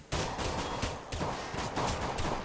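Gunfire during a Counter-Strike match on the Mirage map, a few rapid bursts of shots in quick succession with short gaps between them, fairly loud against a busy game background, with no talking.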